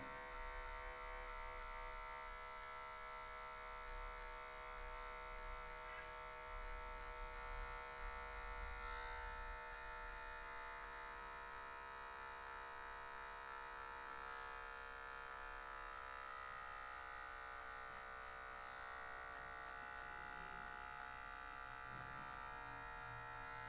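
Electric hair clipper edging a low social cut on afro hair with just the corner of the blade, a faint continuous buzzing hum held steady throughout with no talking.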